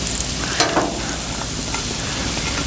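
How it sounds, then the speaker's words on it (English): Turnips dumped onto a hot griddle slicked with avocado oil, giving a steady, close sizzle with a brief clatter and scrape as the pieces land and settle. "I'm going to just throw a little more avocado oil on there and dump out my turnips"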